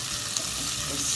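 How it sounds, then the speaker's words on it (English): Onions sautéing in a pan for South Indian sambar give a steady, soft sizzle with faint stirring, close by and unbroken. "Now let the onions become little pink. Saute it for some time."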